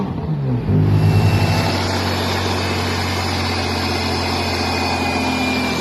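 A Subaru SVX with a straight-piped exhaust blips its engine briefly, then settles into a loud, steady, rumbling idle with a strong low drone, close up and without talk.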